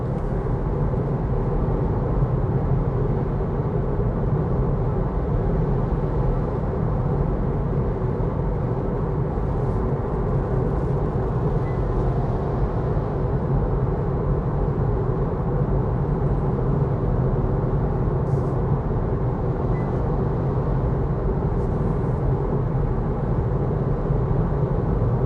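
Cabin road noise inside a 2022 Kia Niro EV 64 kWh on the move: a constant, even low roar and tire rumble that stays steady throughout, with no talk.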